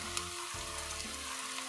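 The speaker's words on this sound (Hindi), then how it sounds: "और फिर इसमें जो है हमारे उबले हुए चने वो शामिल करते हैं।" Turnips and boiled chickpeas fry over high heat in a pan, giving a steady, close, even sizzle that runs unbroken throughout.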